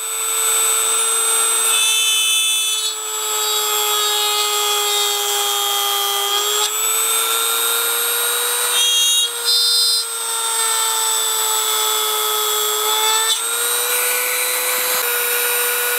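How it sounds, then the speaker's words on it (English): Dremel rotary tool cutting holes into a plastic rifle part, a loud steady high-pitched whine held for the whole stretch, with slight dips in pitch as the bit bites into the plastic and brief shifts between cuts. "Going to take our Dremel and Dremel the holes."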